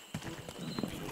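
A horse's hooves clip-clop at a quick pace in the western video game Rustler, a short run of close, dull thuds under a voice.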